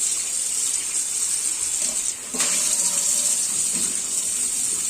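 Steady running tap water splashing continuously, a brief dip partway through, with faint clinks of silver items being rinsed under the stream.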